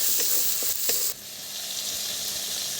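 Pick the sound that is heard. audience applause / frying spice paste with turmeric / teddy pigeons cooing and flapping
frying spice paste with turmeric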